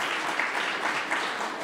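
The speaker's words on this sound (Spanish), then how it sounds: "Gracias por su aplauso" Audience applause at a Biologist's Day commemoration ceremony, a steady dense wash of clapping from a crowd, moderately loud and continuous throughout with no talking over it.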